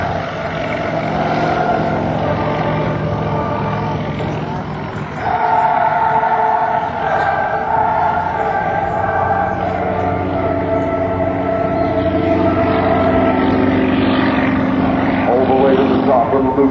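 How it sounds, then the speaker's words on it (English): A Soviet-designed Sukhoi SU-31 aerobatic plane flown by Jurgis Kairys drones loudly and steadily through an air show display, its pitch shifting as it maneuvers, with an announcer talking over it. "Jurgis Kairys takes this Soviet-designed SU-31 to its limits"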